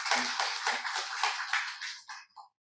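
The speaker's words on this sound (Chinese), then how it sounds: "请大家咧再一次热烈掌声咧答谢我哋今日嘅讲者" Audience applause closes a Hong Kong local-history lecture on Luen Wo Market, Fanling, a dense wash of many hands clapping for about two seconds before tapering off to a few last claps.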